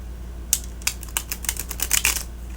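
A thick tarot deck with cat artwork being shuffled by hand: a quiet, close run of crisp card clicks and snaps, irregular at first, then bunching into quicker bursts.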